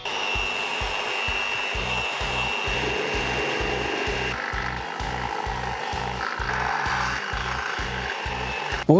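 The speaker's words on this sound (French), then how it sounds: "il faut que je perce les profils aluminium" A power drill bores into aluminium profiles with a steady whining hum, a regular pulsing thud running underneath, close and continuous until a sharp knock at the end.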